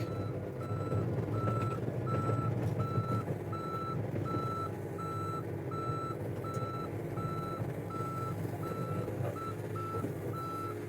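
A mini excavator drives backward, its reversing alarm sounding a steady, evenly spaced series of beeps over a constant engine rumble.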